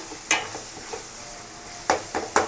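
Masala sizzling in oil in a pan for fish gravy, a steady soft frying hiss with a few sharp scrapes of stirring, close and alone.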